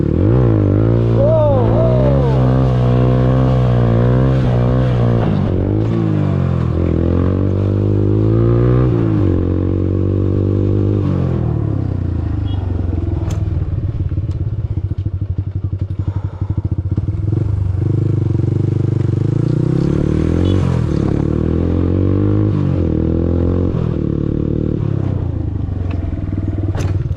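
An RTR 2V motorcycle revs hard for a wheelie, its engine note climbing and falling in repeated surges, with rattles and scrapes along the way, loud and close throughout.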